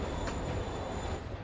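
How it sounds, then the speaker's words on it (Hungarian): Train rumbling and rolling along the rails in the subway section of Marvel's Spider-Man on PC, a steady, loud, dense rumble that continues throughout with no gaps. "Lee's escape plan is to use the train."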